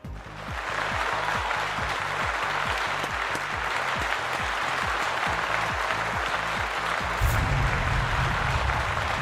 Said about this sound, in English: Let's give George a round of applause here